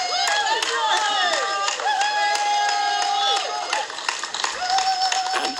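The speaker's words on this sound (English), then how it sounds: "they might give him a cheer" A crowd cheers and claps as 102-year-old Colin Bell finishes abseiling down the side of the Royal London Hospital, with scattered claps and whoops under raised, overlapping voices.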